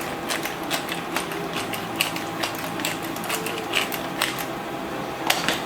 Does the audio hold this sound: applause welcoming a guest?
no